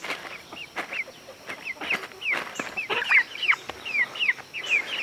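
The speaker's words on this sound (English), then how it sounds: "our white rooster, this is Pinky" White rooster clucking in a run of short, repeated calls close by, with a few sharp scratchy knocks in between and no talking.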